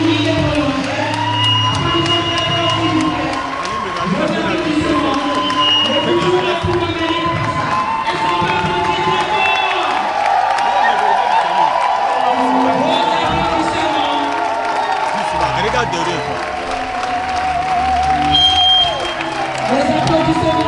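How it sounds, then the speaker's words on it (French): Wedding guests at a civil ceremony applaud and cheer continuously, a busy crowd wash of clapping mixed with whoops and murmuring voices that persists for the whole stretch. "Applaudissons très fort."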